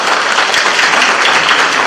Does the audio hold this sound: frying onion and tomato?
no